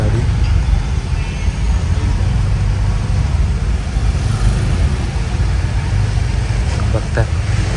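A car driven slowly over speed breakers with one door held half open, carrying a battery wired up at the front, gives a steady close low engine and road rumble throughout, with voices talking over it.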